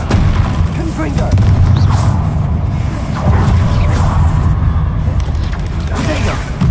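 In Hogwarts Legacy, the Confringo fire spell goes off in repeated booming blasts and whooshes under a constant loud rumble of combat, with a voice heard over the noise.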